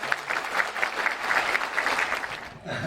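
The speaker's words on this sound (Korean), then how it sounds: "여러분, 뜨거운 박수로 맞이해 주시기 바랍니다." An audience at a travel talk event claps warmly to welcome the speakers, a steady dense applause that holds throughout before tapering off at the very end.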